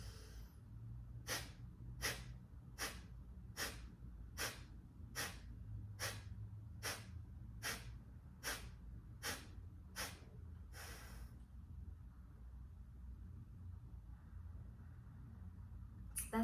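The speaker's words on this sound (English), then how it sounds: "So we're going to breathe in through the nose." Quick nasal breaths in a paced breathing exercise, about a dozen sharp, regular puffs roughly every two-thirds of a second, close and fairly loud, then a pause with low background rumble.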